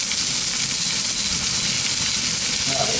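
Chopped onion sizzles loudly and evenly in hot oil in a pan, the base for a seafood paella, with a steady crackling hiss throughout and no voices.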